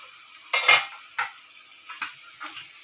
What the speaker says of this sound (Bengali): পেঁয়াজ মরিচটা একটু ভালো করে একটু ভাজতে থাকুক